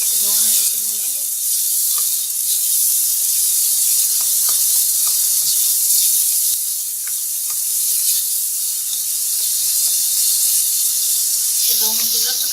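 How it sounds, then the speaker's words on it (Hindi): Chicken and peas fry in a pan, hissing and sizzling steadily with occasional stirring clinks, and a voice briefly heard at the start and end. "हमारी चिकन और मटर थोड़ा फ्राई हो गए हैं"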